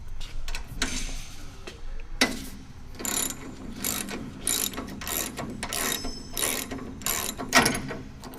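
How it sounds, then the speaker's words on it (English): Shaft bolts being removed from a 200mm wound energy recovery cassette with a ratchet wrench, close repeated bursts of sharp clicking ratchet strokes in an irregular rhythm, loud and alone. "And we'll remove the shaft bolts."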